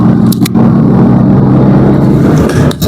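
An old car, about six years in use, drives along the road, its loud steady engine rumble and road noise filling the cabin, with a couple of brief knocks near the start.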